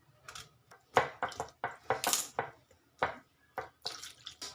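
Tender eggplants being cut on a board, a series of irregular soft knife chops and taps with small gaps between them, close and quiet, no voices.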